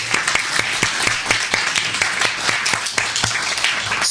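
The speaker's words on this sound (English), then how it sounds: "A round of applause for her." Audience applause at a debate event, an even, sustained round of many hands clapping with sharp individual claps standing out, fairly close and with no talking.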